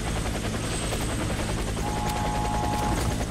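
A steady helicopter rotor drone fills the scene in the video game Warface, with a faint mechanical whine and scattered distant pops in the background.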